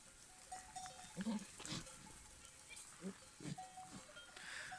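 Goats bleat during mating play in a herd, giving a few short, faint, scattered calls over a hushed outdoor background with soft voices.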